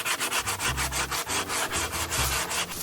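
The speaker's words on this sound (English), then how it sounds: "sandpaper in hand." Brisk back-and-forth rasping of sandpaper on a carved wooden Hawaiian tiki, quick regular strokes close by and fairly loud, with no voices.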